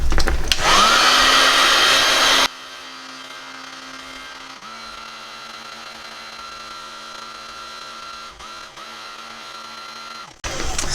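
A heat gun or hair dryer blows steadily over resin on a 3D tray and coaster set, a loud whirring airflow that drops to a quieter, constant hum after a couple of seconds and then switches off near the end.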